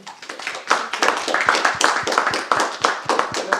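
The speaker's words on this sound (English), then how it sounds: "give a big applause for our speakers" A burst of steady applause from a small audience closing an archaeology lecture session, dense clapping that continues throughout without talk.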